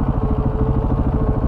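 Suzuki DRZ400 dirt bike engine running steadily on a jungle adventure trail, a close, loud, even low thumping throb with a regular pulsing rhythm.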